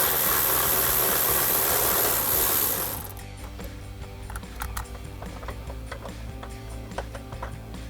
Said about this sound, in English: So I'm gonna grab a 10mm socket and get the nut out of there first.